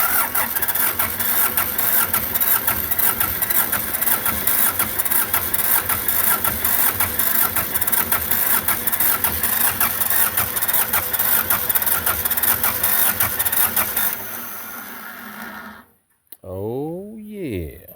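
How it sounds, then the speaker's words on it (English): A Belarus 250 tractor diesel engine with a fuel delivery problem cranking steadily and loudly for about fourteen seconds, then cutting out, with a short burst of engine sound afterward. "Maybe this thing will crank up here in a little bit and run on its own."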